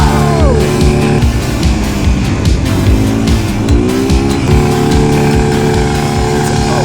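Motorbikes are ridden in the Sahara desert near the pyramids in Egypt, their engines loud and close, revving and shifting pitch continuously with overlapping whines.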